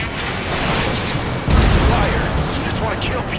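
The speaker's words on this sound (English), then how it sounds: "Confirming explosions. The rail cannon's been destroyed." A rail cannon explodes in the Ace Combat 7 video game as a loud, sustained rumbling roar that surges midway, layered with game noise and spoken voices.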